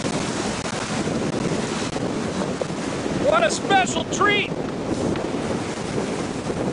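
Strong wind of about 40 knots blows downwind over a sailboat at sea off New Zealand. Loud, constant wind rumble and rushing waves fill the whole stretch, and someone speaks briefly over the noise partway through.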